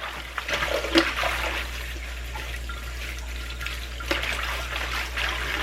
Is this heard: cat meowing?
no